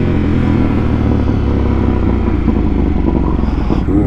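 2025 Ducati Panigale V2S exhaust while riding, a loud, steady engine drone held close for the full stretch with a slight shift near the end, no talking.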